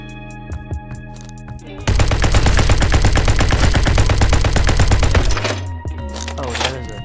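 Rapid automatic gunfire from a video game weapon with a slow rate of fire, a loud dense burst of repeated shots lasting about three and a half seconds, preceded and followed by quieter game sounds.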